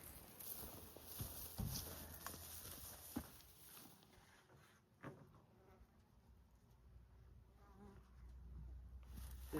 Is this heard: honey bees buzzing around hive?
yes